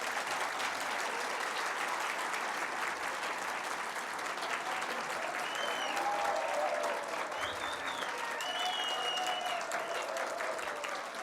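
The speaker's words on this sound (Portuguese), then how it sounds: "uma salva de palmas a todos vocês, por favor." An audience at a diploma ceremony for a first class of conciliators and mediators in Campinas breaks into sustained applause, a dense, even clapping that continues strongly throughout with faint voices mixed in.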